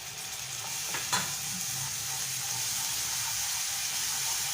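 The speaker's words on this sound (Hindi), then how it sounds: "गोल्डन फ्राई की तरफ जा चुकी है हमारी प्याज, बस होने वाली है गोल्डन फ्राई" Sliced onions frying golden in hot oil for a lentil dal, a steady loud sizzle with a brief scrape of stirring near the start.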